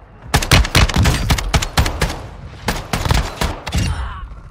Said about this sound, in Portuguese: Percebam quantos tiros foram necessários pra derrubar aquele cara, mesmo usando uma 12